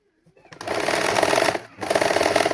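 A Singer sewing machine runs a zigzag stitch while sewing a prince-cut blouse, a steady close mechanical whirring that starts after a brief quiet, dips for a moment, then resumes.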